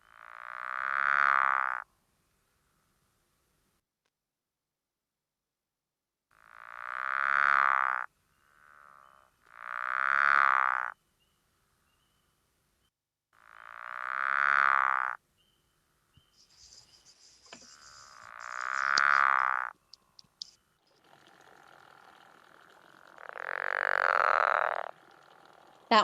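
Recorded frog calls play one after another, each a loud, drawn-out croaking burst with long pauses between, later joined by faint insect-like chirps as the calls continue.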